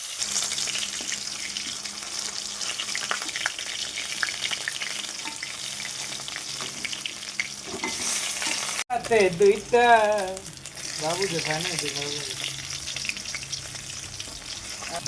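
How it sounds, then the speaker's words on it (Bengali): Steady frying sizzle with a hiss of hot oil as chital fish pieces fry over medium-low heat, then a sharp cut to a busier stretch where a voice-like warbling sound rises briefly over the sizzling. "মাছ ভাজার সময় অবশ্যই উনুন বা ওভেনের আঁচটাকে মিডিয়াম থেকে একটু কমিয়ে ভাজতে হবে"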